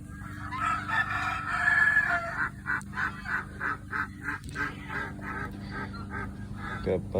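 Chickens and geese on a farm call in rapid, rhythmic bursts, with a rooster crowing and repeated honking close by, and no voices.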